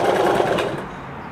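A Kenmore sewing machine runs a zigzag stitch in a fast, loud, close mechanical rattle that holds steady and then slows and fades as it stops.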